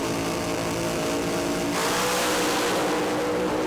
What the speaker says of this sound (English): Now they start to boost those revs up, ready to drop the hammer.